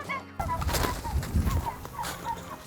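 Free-range turkeys on a farm cluck and gobble in a loose, overlapping chorus, a busy flock at moderate distance with outdoor ambience.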